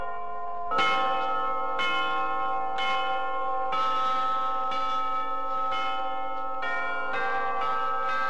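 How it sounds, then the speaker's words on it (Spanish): Church bells ring out loudly and close by, a series of resonant, evenly spaced strikes roughly once per second, each tone overlapping the lingering hum of the last, with no voices. "si voy a tocar las campanas"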